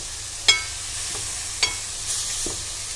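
Fish curry with coriander and curry leaves added is stirred in a pot. Three sharp spoon knocks sound over a faint, steady simmering hiss, with no voices.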